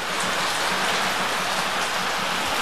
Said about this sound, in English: It is one seriously rainy day.